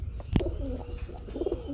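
Racing pigeons bred for 400–500 km flights coo in a soft, throaty rolling call, close by, with a brief sharp flutter or peck early on and another rising coo near the end.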